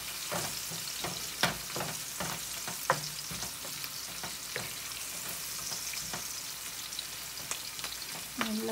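Onions browning in a pan for a veggie chop suey stir fry, sizzling steadily up close, with the clacks and scrapes of a utensil stirring them at irregular intervals and no talking.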